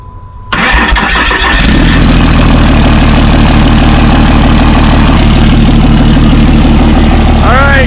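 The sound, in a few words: 2007 Megacab Cummins diesel engine cold start without exhaust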